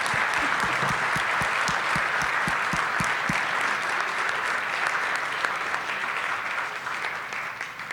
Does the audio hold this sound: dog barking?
no